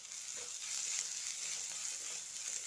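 Grated carrot frying with golden brown onions in a pan gives a soft, steady sizzle with light stirring scrapes, faint and close, with no talking.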